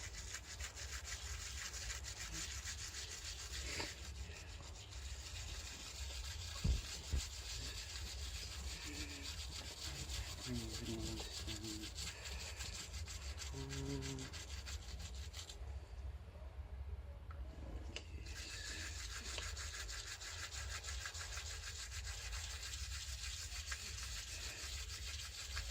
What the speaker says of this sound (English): Just got to keep on going, just rub it down, just keep on rubbing it, and Dettol,